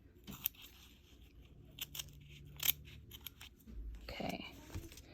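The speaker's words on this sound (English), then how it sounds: "you can use smaller scissors if you'd like little snippets." Scissors snip through sweatshirt fabric in a few short, crisp cuts spaced irregularly, close and fairly quiet, with faint handling rustle and a low bump between snips.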